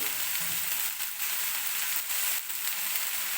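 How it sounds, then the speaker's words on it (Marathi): Spring onion greens sautéing in hot oil give a steady, close sizzle throughout, with faint stirring scrapes now and then and no voices. "तर व्यवस्थित अशी परतून घ्यायची आपल्याला पहिल्यांदा पाक तेलामध्ये"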